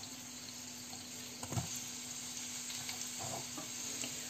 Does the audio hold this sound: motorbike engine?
no